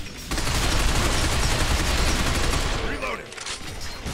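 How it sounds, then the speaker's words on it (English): Dense, sustained enemy gunfire rattles in a Binary Domain shootout, with overlapping automatic bursts close and loud for about three seconds before thinning into scattered shots. "I am experiencing sustained enemy fire!"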